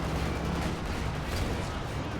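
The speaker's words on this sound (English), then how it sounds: "Good hits on the KV-2 from the counter-warfare and the Panzer IV." Artillery and tank cannon fire striking a KV-2 heavy tank in Company of Heroes 2, a dense rumbling barrage of booms and impacts with a faint voice talking over it.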